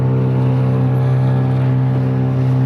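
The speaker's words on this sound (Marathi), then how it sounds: "या स्पीड बोटीतून सध्या फेरफटका मारला जातोय" A speedboat cruising on the brimming Krishna-Koyna river confluence at Karad, its engine a loud, steady, close drone with a strong low hum held evenly throughout.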